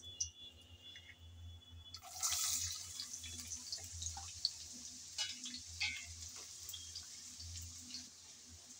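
Chopped onion hits hot oil already seasoned with bay leaves, cardamom and cinnamon for khichuri, bursting into a quiet but steady sizzle that crackles on after a near-silent start.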